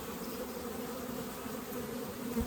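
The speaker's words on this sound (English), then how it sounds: "this is just bees" Honeybees buzz around an opened hive during a split into nucleus colonies, a dense, steady hum of many wings close by with no talk.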